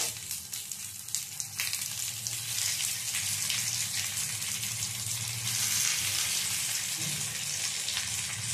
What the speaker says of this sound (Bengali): এবারে গড়ে নেওয়া পাতুরিগুলো একটা একটা করে দিয়ে দেব।